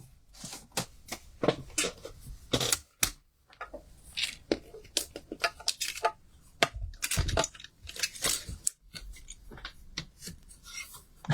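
Scissors snip through paper to cut out a sketched butterfly, giving a close series of sharp, crisp cuts and rustles in irregular bursts with brief pauses, heard without talk.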